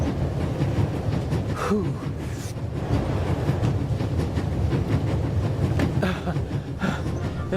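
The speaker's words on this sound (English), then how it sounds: "There's nothing quite like traveling on a train." A train travelling in the video game The Raven gives a steady rumbling clatter with repeated rail clicks, going on under a brief exhaled sigh from a man.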